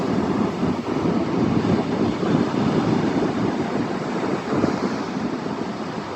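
Ocean surf rolling onto the beach at Seaside Park on a warm summer morning, a steady broadband wash of waves with wind noise on the microphone, continuous and fairly loud throughout.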